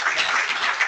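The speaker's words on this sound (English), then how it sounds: "Let's give him a round of applause." Applause from an audience at a professional training session for licensed site remediation professionals, a short steady burst of many hands clapping close by with no voices over it.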